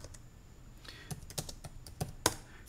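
Keys clattering on a computer keyboard as a chmod command is entered at the command line, a close run of light irregular taps with a few sharper, louder keystrokes toward the end.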